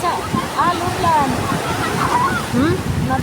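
Ocean waves wash over a stony shore, a steady rushing surf with sloshing water and wind buffeting the microphone, while faint higher calls or squeaks drift through the background.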